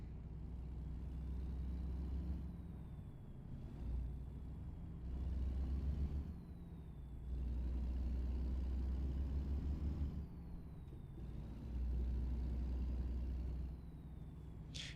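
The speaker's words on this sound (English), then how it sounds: "Still following that dump truck." Dump truck driving in a video game set on an Illinois map, a low steady engine drone with recurring surges and shifts every few seconds, heard alone.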